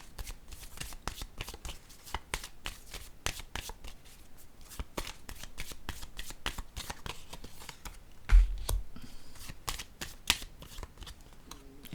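Tarot cards being shuffled by hand in a steady stream of rapid, crisp riffling clicks, close up and fairly quiet, with one louder thump partway through and no talking.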